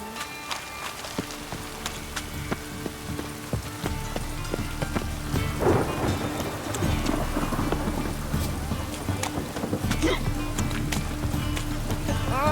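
Rain patters steadily in The Witcher 3, with rumbling thunder and scattered sharp drop-like ticks, growing slightly louder partway through and continuing under the game's ambient sounds.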